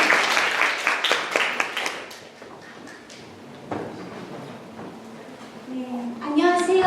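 An audience at a Korean-language speaking contest for foreign students claps for a few seconds, the applause fading into quieter room noise with a voice starting at the end.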